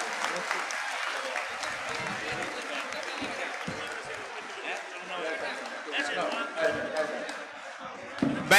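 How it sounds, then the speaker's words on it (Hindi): A crowd applauds to welcome Sudha Yadav at a panchayat representatives' honour ceremony in Tosham, Bhiwani, with dense, sustained clapping mixed with voices and a few sharper claps near the end. "एक बार जोरदार तालियों से स्वागत किया जाए।"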